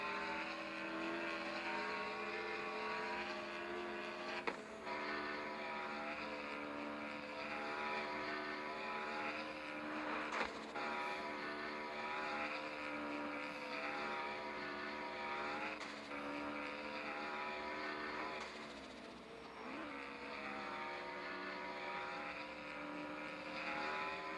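A street racing car's engine in CarX Street drones steadily and loudly at high revs for the whole stretch, with brief shifts and a small dip near the end as nitro boost is fired.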